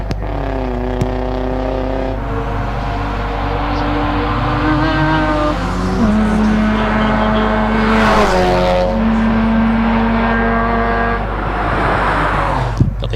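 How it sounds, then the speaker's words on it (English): A Mazda RX-7 race car threads a hillclimb chicane, its rotary engine buzzing loud and close, pitch rising and falling through repeated gear changes and throttle lifts. "The RX-7 now coming through the chicane"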